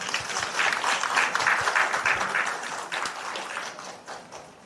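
An audience claps to welcome a lawyer stepping up to speak at a seminar on industrial accident compensation. The applause is dense and loud at first, then thins and fades toward the end.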